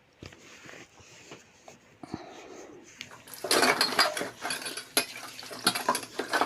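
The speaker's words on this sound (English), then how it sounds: "This is how we do the dishes." Plastic cups, cutlery and dishes clink and clatter while being washed by hand, starting sparse and quiet, then growing into busy, close, continuous rattling and knocking with sharp clacks, and no talking.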